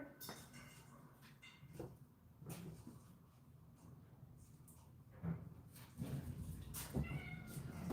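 A cat meows several times at irregular intervals, fairly close but quiet, amid light rustling and a few soft knocks.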